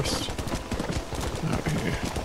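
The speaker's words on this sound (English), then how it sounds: "Look at this. One more horse." Horse hooves clip-clopping in the Red Dead Redemption video game, a steady rhythmic trot running throughout at moderate loudness, mixed with game ambience and a brief high hiss at the start.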